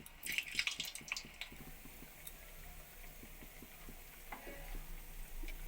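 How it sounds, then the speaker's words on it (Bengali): Kheer pitha fried in hot white oil in a wok, giving a soft, low-level sizzle with light crackles and a few sharper pops early on, steady and close. "তেল গরম হয়ে গেছে পিঠাগুলো একটা করে দিয়ে এগুলো সব একসঙ্গে ভেজে নেবে"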